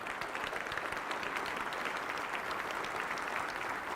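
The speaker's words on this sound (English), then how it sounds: "and if you don't know Doug Scott, let's give you a round of applause." An audience at a city's State of the City address claps in a steady, even burst of applause, moderately distant and without cheering.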